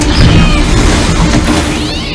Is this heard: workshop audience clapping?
no